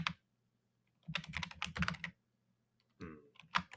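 Loud, deliberately hard typing on a computer keyboard, heard as two bursts of rapid clattering keystrokes separated by a short pause, close to the microphone in a quiet room.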